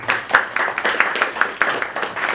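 Audience clapping at a film festival honouring ceremony, the applause dense and steady with sharp individual claps poking through, fairly close and without talk over it.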